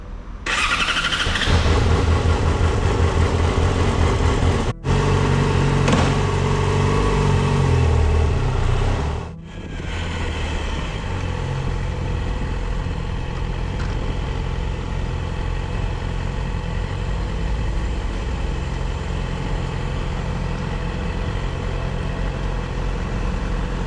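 A Yamaha R6 sport motorcycle revs loudly up close for the first several seconds, cuts off briefly, then settles into a steady, quieter engine drone with wind rush while riding toward the beach.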